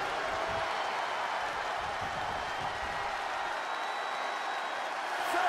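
Broadband crowd roar from a virtual wrestling arena crowd during a WWE 2K23 match between Wendy Choo and Ivy Nile, a steady wash of cheering noise held throughout at moderate level.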